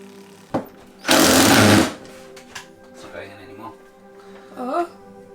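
A power drill whirs loudly for under a second in a 100-year-old farmhouse under renovation, then stops; people talk and a high voice exclaims in the background afterward.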